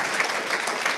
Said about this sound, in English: please join me in thanking Gerard Grech from Tech City UK.